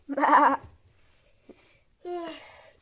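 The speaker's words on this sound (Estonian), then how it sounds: "Lamba häält." A sheep bleats twice with wavering, nasal calls, close and clear, with a faint short sound in the gap between them; no one talks over the calls.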